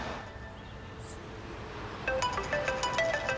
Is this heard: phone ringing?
yes